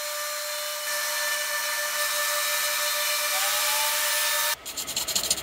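Router bit cleaning out narrow points of carved letters in a wooden sign, a sustained high whining buzz held close and loud for several seconds, then cutting off into short uneven rubbing bursts.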